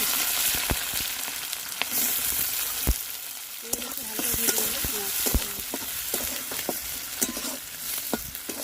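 Onion and green chili frying in hot oil with panch phoron, bay leaf and dried red chili, a steady close sizzle broken by sharp utensil scrapes and stirring knocks throughout.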